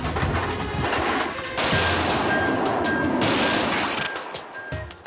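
The MiG-29's 30mm single-barrel cannon, firing about 1,800 rounds a minute, sounds as a loud, continuous rapid burst that roars steadily for several seconds before breaking into a few ragged final bangs as it stops.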